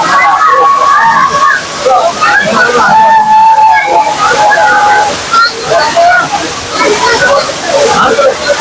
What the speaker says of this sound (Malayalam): വെള്ളച്ചാട്ടത്തിന്റെ സൗണ്ട് ഉണ്ടാവും.